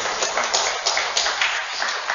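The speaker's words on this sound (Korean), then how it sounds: "박수를 한번 하겠습니다" A church congregation applauding during a worship service in a large hall, a sustained burst of dense clapping with rhythmic peaks, loud and close throughout.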